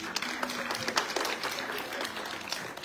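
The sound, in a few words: audience applause at a Comorian craft fair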